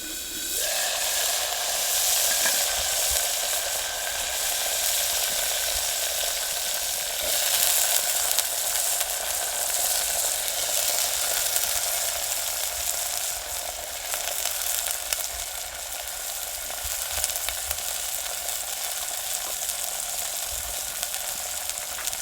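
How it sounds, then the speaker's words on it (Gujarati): Ivy gourd (tindora) goes into hot tempering oil with crackled mustard seeds, cumin and asafoetida, giving a loud, continuous frying sizzle that flares at the start and then hisses on evenly. "હવે નાખી દઈએ આપણે મળેલા ટીંડોરા"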